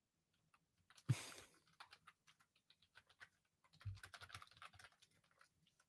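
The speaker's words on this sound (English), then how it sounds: "it feels so nice to actually be typing on a keyboard" Fingers typing on a desktop computer keyboard, a quiet scatter of light key clicks with a louder thump near the start and a denser burst of clatter about two-thirds through.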